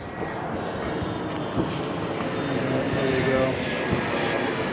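An airplane passes over a residential neighborhood near the bay, its broad, steady engine roar filling the background throughout while a person speaks briefly nearby.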